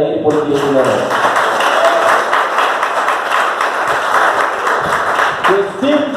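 A church congregation applauds in dense, steady clapping that fills the whole stretch, with a few voices heard near the start and again at the end.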